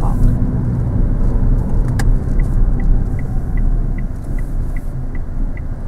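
A car turning left into a car park, its steady road rumble and engine noise continuous and close throughout, with a regular ticking like an indicator running in the background.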